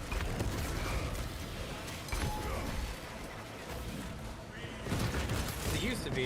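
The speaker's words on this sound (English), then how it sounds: "Now I have to wait a second in between each shot." Inferno pistol shots in a Warhammer video game, each heavy blast separated by a pause of a few seconds. A voice talks over the steady gameplay din throughout.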